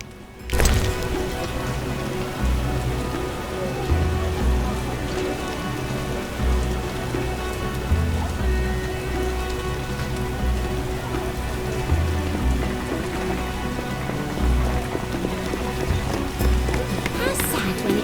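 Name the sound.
rain falling in The Witcher video game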